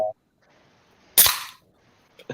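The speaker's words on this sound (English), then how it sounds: "Ooh, fireworks." A single sharp firework explosion cracks loudly and briefly, then fades quickly into quiet, with short vocal sounds just before and after.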